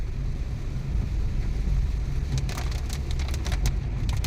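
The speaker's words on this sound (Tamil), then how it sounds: "மழை இருக்க நல்லா ஹெவியாக பிடிச்சிருச்சு." Heavy rain pours onto a Chennai road in a dense, steady hiss, with traffic rumbling close by and sharp bursts of splashing near the end.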